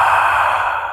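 Ujjayi yoga breath exhaled through an open mouth: a steady, breathy airy rush lasting about a second, close and fairly loud, with no talking.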